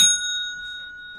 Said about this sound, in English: the way it works is you'll hear the bell